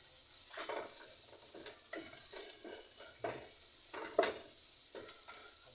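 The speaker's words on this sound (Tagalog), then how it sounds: "Habang ginigisa natin itong onion" Onion being sautéed in a pan while home-cooking egg noodles, with soft stirring scrapes and light sizzle in repeated strokes, fairly quiet and close, with no talking.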